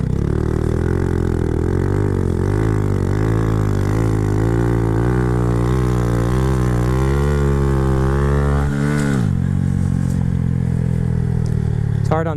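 Honda Grom motorcycle engine revving hard through a sit-down wheelie, its pitch climbing in steady rising sweeps before abruptly dropping off near the end, loud and close throughout.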